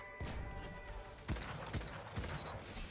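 A quick series of sharp gunshots from the Destiny 2 video game, in a player-versus-player match with hand cannons, pops out irregularly, four or five punchy reports within a few seconds at moderate loudness.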